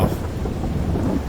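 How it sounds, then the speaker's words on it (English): Video game rain hisses steadily throughout, with a low rumble of distant thunder rolling underneath; no talking. "It's just started raining and we got thunder off in the distance."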